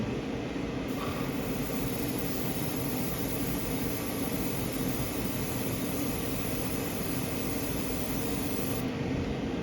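A Gaahleri Serenair mini compressor airbrush spraying Alclad gloss base onto a spoon, a steady hiss of air and paint mist running without a break alongside a continuous compressor hum, close and unchanging with no speech.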